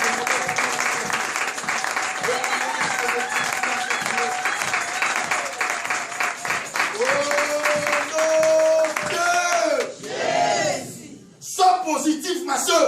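A church congregation claps and cheers steadily in a Sunday worship service, with amplified singing and voices over the applause, the clapping swelling and then breaking off near the end.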